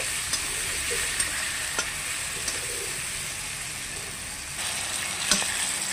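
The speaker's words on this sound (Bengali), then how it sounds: "পেঁয়াজ টমেটো কাঁচা লঙ্কা" Onion, tomato and green chili fry in a pan with a steady, close sizzle throughout, broken by a few light clicks of stirring.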